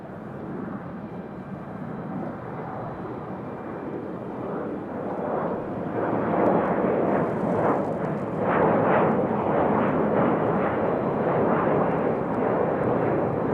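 A Republic Airways jet departs Raleigh-Durham for LaGuardia, its engines a steady broadband roar that swells and grows rougher and louder midway, with no talking.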